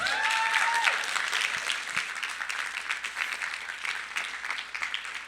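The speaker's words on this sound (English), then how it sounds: "Can we give her another round of applause, y'all?" Audience applause after a keynote address at a public interest communications summer institute: a full room claps steadily, strongest at the start and gradually thinning toward the end.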